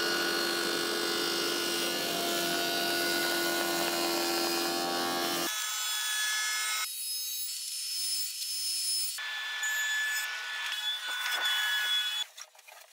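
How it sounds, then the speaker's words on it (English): A planer thicknesser machines wooden boards flat with a loud, steady, broadband roar for about five seconds. It then cuts off, leaving a quieter tonal whine that winds down in stages. "So next stage, going to work on the planer thicknesser."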